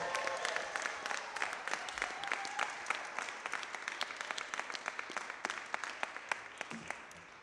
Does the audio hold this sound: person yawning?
no